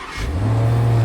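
A 2022 Range Rover with a four-exhaust setup revs briefly, a close, loud engine roar that swells over about a second.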